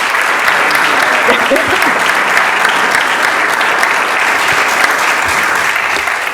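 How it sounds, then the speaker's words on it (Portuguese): Loud, close audience applause at the Gala dos Autores 2020 awards ceremony, a thick, unbroken roar of clapping lasting the whole stretch, with a brief voice barely surfacing beneath it. "pedir uma enorme salva de palmas"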